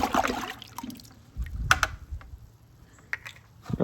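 A brush stirs rinseless car wash solution in a bucket, giving soft, irregular sloshing and scraping that comes in brief bursts with quiet gaps between them, fairly close and at moderate level, with no voices.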